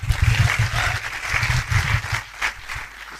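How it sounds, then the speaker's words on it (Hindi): An audience at a live comedy show claps loudly in uneven bursts that rise and fall, then tapers off toward the end. "जोरदार तालियां बॉस"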